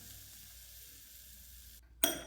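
Hot sesame oil is poured onto a garlicky seasoned sauce for a wood ear mushroom salad, giving a sudden sharp sizzling hiss near the end after a quiet lead-in.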